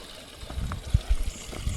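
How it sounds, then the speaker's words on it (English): A small forest stream trickles in Newlands Forest, Cape Town, with a faint, steady wash of water and a few soft low thumps nearby. "Here we hear some water"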